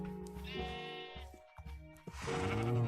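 Sheep on a Minecraft farm bleat loudly nearby, several wavering baa calls in quick succession, clear with no talk over them.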